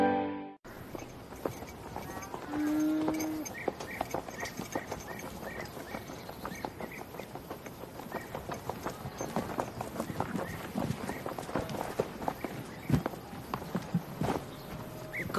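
Horse hooves clip-clop at a steady walking rhythm on a hard surface, fairly close and continuous, with faint background ambience and no speech.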